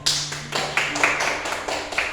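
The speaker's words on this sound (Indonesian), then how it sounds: "Tepuk tangan untuk kelompok 3." Classroom applause for a student group, a handful of clapping bursts in a loose rhythm, close and moderately loud, with a faint steady hum beneath.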